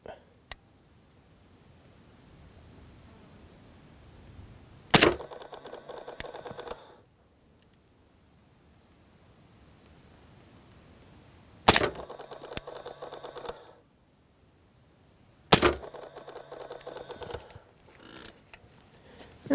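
Three sharp, muffled pistol reports from a .45 fitted with a Silencer Co. Omega 45 suppressor, each followed by a brief rattling tail and separated by long, quiet pauses.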